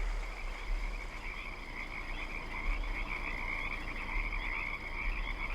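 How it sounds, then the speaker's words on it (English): Frogs croaking at night in the trucking game Euro Truck Simulator 2: a dense, steady chorus of trilling calls, quite faint, pulsing continuously over a low engine-like hum, with no one talking. "You can hear the frogs chattering about."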